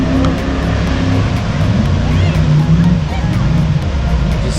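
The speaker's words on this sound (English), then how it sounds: "It's a bit chaotic with all these jet boats driving around." Jet boats roar steadily on a river near a waterfall, a dense continuous engine drone with wash of water, loud and fairly close, with faint voices underneath.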